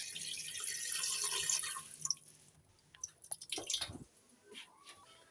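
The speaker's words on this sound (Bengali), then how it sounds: "পানি অ্যাড করে দিচ্ছি, যাতে এটা খুব দ্রুত একটু নরম হয়।" Water poured and dripping into flour while making momo dough, with splashy trickles and drips that start quiet, then rise in a few bursts near the end. No one speaks.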